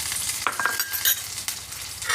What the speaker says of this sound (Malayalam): ഇനി പച്ചമുളക് ഇട്ടു, വെളുത്തുള്ളി ഇട്ടു.